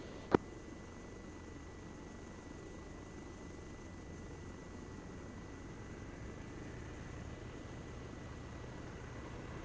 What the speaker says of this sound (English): Two-7 spooling for repositioning.